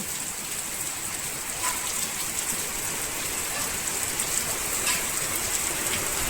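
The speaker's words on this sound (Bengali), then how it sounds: "দারুণ বৃষ্টি হচ্ছে" Heavy rain pours steadily, a dense hiss of drops on surfaces with occasional louder splats, no voices.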